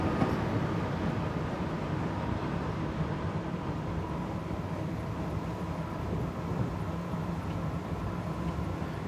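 An Amtrak Acela train running on the Northeast Corridor in Train Simulator, a steady loud rumbling roar of motor and wheels that holds at an even level throughout, with no breaks or talk.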